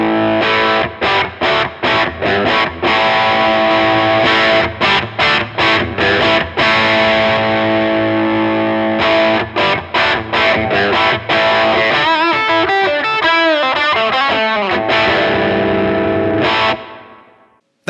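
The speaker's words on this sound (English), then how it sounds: "taking my guitar into the overdrive pedal, overdriving the clean guitar sound" An electric guitar runs through a Bluesbreaker-style overdrive pedal into an overdriven amp, giving loud, gritty distorted chords and rhythmic strummed stabs, then a fast picked riff, all played alone.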